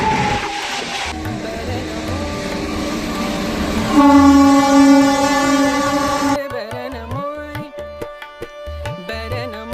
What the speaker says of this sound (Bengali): এক রাজ্য থেকে অন্য রাজ্যে ছুটে চলা ট্রেনগুলো এই সুন্দর স্টেশন পেরিয়ে যায়